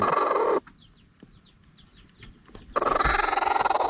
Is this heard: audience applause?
no